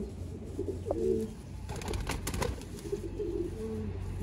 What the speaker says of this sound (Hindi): देखो लाल अख दे कबूतर